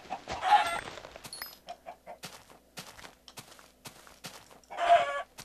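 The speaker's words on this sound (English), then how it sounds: "A lot of chickens." Chickens cluck in the Minecraft video game, with short repeated clucks scattered across the clip and two louder squawking bursts at the start and near the end, close and clear with no talk.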